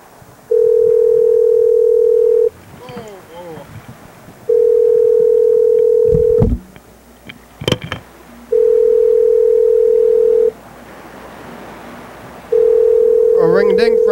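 Telephone ringback tones repeat in four long, evenly spaced bursts during an outgoing call, each about two seconds long with pauses between, while brief clicks and faint talk fill the gaps.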